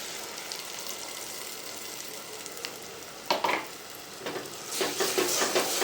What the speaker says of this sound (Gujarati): હવે ડુંગળી પાકી ગઈ, આપણે આ મિક્સ કરેલું ઈંડાનું ભૂજી નાખી દેવાની એમાં